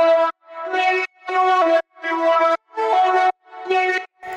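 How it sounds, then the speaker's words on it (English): A vocal processed through a synth on a saw Juno lead preset, coming through as a string of bright, buzzy chopped phrases, about seven short bursts separated by sharp gaps in a steady rhythm. "I have this vocal being processed through that synth and it sounds like this"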